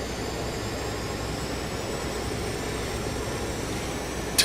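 Avro RJ100 jet engines in the Prepar3D flight simulator holding a steady, even roar as the throttle is pushed up, continuous and fairly quiet with no talk, ending in a brief click.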